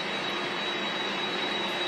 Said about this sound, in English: The Krafts not only provided the jet